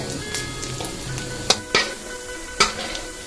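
Pork belly and minced lean pork stir-fried with sour fermented soybean paste in oily fat: a soft continuous sizzle broken by several sharp spatula clacks against the pan.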